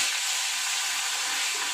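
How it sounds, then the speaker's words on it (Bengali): Fish frying in a pan on a home stove gives a steady, close sizzle with a dense, even hiss throughout and no voices. "এদিকে ভাত আর এদিকে মাছ ভাজা আপাতত বসিয়েছি"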